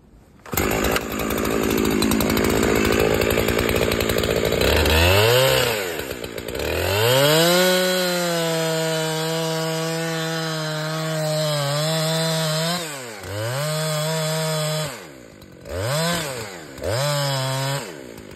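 A chainsaw makes the back cut while felling a tree, revving up to a loud, close whine that bogs and rises as it bites the wood, then drops back in several short bursts near the end.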